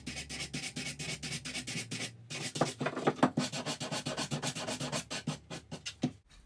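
A sanding block rubs back and forth on the corner of a wooden square, giving a steady rhythm of short rasping strokes close up, with a brief pause partway through.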